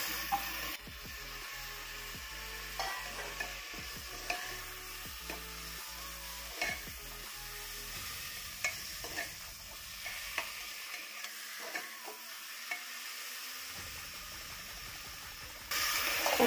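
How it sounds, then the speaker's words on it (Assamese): Lentils and bamboo shoots fry in a pan with a continuous close sizzle, while a spatula stirs with repeated light scraping ticks and taps that thin out as the frying quiets. "দালিখিনি দি অলপ ভালকে ভাজি লৈছো এতিয়া ইয়াত বাঁহগাজখিনি দি দিম"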